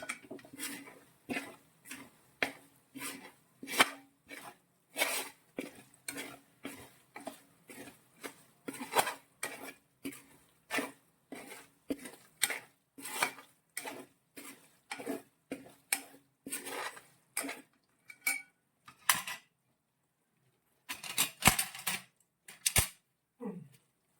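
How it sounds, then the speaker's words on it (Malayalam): Spice powders for pickle being mixed in a bowl, a long run of quick, distinct scraping clinks from a spoon, steady and fairly close, with a short pause before a few final knocks. "ഈ പൊടികളെല്ലാം നമ്മൾ നന്നായിട്ടൊന്ന് മിക്സ് ചെയ്യണം"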